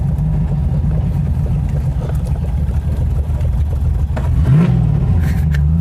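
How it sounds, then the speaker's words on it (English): A classic Mini car drives past outdoors at a classic car festival, its engine rumbling loudly and steadily, swelling slightly as it revs near the end. "The Mini is being driven over there."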